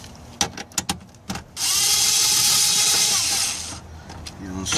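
A power driver unscrewing stereo screws in a 2005 Toyota Tundra dash, a few sharp clicks and then a steady whirring run of about two seconds, close and loud, with no talking.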